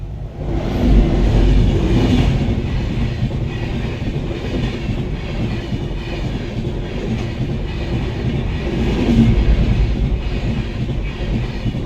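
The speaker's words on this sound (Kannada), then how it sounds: "ಟ್ರೈನ್ ಬಂತೆ" A train rumbles past close by at a level crossing, steady clattering and rolling for the whole stretch, with louder swells near the start and again toward the end.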